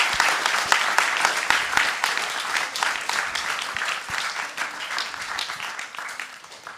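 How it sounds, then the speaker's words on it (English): An audience applauds children who performed a play at a temple celebration, a sustained burst of many hands clapping that slowly thins and fades, with faint voices underneath. "So can we have a big round of applause for them again?"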